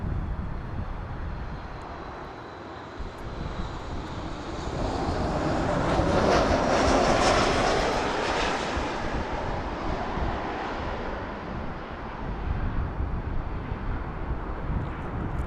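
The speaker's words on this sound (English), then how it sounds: "That was a good looking landing." Airplane landing at Toronto Pearson airport, a broad roaring engine rush swelling to a peak mid-way and then easing into a sustained distant rumble with wind noise.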